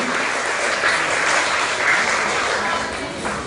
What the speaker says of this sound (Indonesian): kita berikan tepuk tangan untuk peserta yang akan berlomba cerdas-cermat pada pagi hari ini